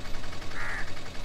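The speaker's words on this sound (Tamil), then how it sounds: "அண்டங்காக்கா அதுதான் அது." Jungle crow giving a single harsh caw outdoors in a rural Tamil village setting, a brief mid-pitched call rising out of steady background noise.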